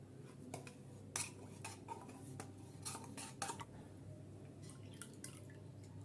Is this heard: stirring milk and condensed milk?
yes